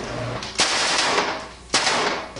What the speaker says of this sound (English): I want to shoot with a big gun.